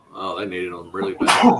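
A single sharp sneeze at the end, right after a person speaks, close and loud.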